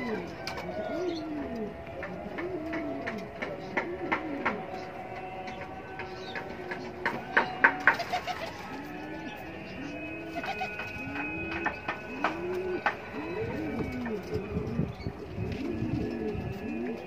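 Pigeons coo repeatedly nearby in soft, overlapping rolling calls, joined by a few scattered light clicks and rustles.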